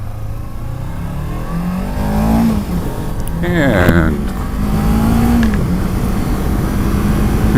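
Steady roaring wind rush with a revving motorcycle engine underneath while riding, heard inside a noisy helmet with a Sena 10C headset, loud and constant; a voice briefly talks through the noise.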